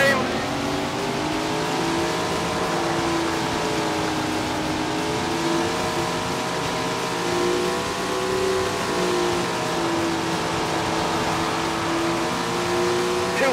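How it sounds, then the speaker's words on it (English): Sprint car engines in Tony Stewart's Sprint Car Racing video game, a pack of cars droning and revving together with steady layered roar and slight pitch swells as they roll toward the start, an announcer's voice talking over them. "Listen to those engines roar as they roll to the line."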